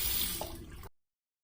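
Tap water runs briefly into a sink to wet an Edwin Jagger safety razor fitted with a Wilkinson blade, a short close splash that cuts off abruptly.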